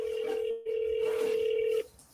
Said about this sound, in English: All while the phone's dialing.